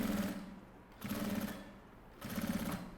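A sewing machine stitches a fabric hygiene kit with a flap, running in three bursts of rapid, steady needle chatter separated by brief slower pauses, close and fairly loud with no talking.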